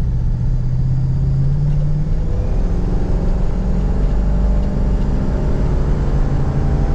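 A 1976 Ford Mustang II engine drones and accelerates, its pitch climbing before a firm shift, a steady loud rumble throughout with no talking.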